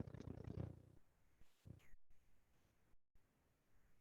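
A cat purring close by, a soft rumbling burst at first that then drops to faint, broken purrs with short gaps of silence.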